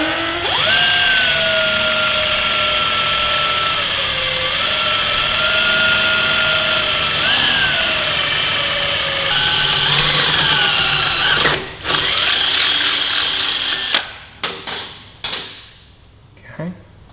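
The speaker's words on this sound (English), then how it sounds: "and we'll drill the first hole." A power drill bores a hole for a Yamaha R3 toe guard, a loud steady whine that runs unbroken for about eleven seconds with slight pitch dips under load, then stops and gives way to several short bursts and clicks.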